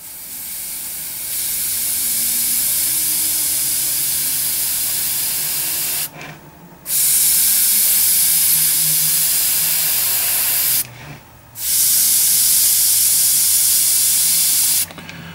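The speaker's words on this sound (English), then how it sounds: "So I'm just going to draw some lines there and just see how we can go with spraying within the lines." Iwata HP-M1 single action airbrush spraying paint in steady, close hissing bursts, one long spray followed by two shorter ones, each broken by a brief pause.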